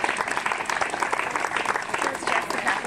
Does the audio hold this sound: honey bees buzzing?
no